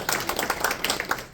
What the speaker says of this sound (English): Little applause if you have.